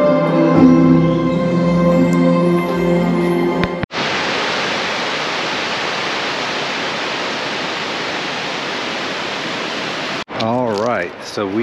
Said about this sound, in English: we just got to Shannon Falls Provincial Park, which is an amazing waterfall from the road